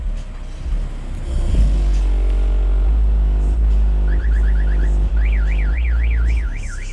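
A car alarm triggered remotely from a phone in a parking lot from over a hundred feet away, with a steady low engine-like drone, then chirping warbles and a rising-falling siren tone cycling loudly near the end.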